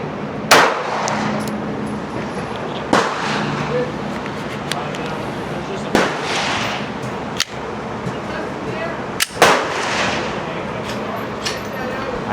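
Pistol shots at an outdoor range, sharp single cracks spaced a few seconds apart, loud and close, with a distant echo and some background noise between them.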